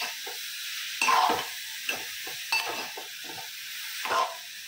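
Carrots frying in a pan with salt, giving a steady close sizzle broken by several louder bursts of stirring and spatula scrapes, with no voices.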